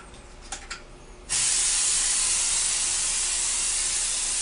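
An airbrush tanning sprayer starts after a few faint clicks and then sprays a loud, steady, close-up hiss that lasts to the end.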